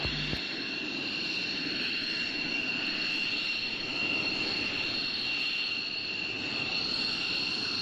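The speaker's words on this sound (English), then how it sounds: "We've got multiple departure fast jets off runway 21 at Waddington" Fast jets depart off runway 21 at RAF Waddington, their engines a steady, distant roaring drone that holds evenly throughout with a high whine on top and no voices.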